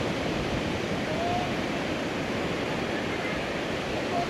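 A steady, loud roar of sea waves washing nearby on Boracay, a continuous rushing hiss with no pauses and no voices.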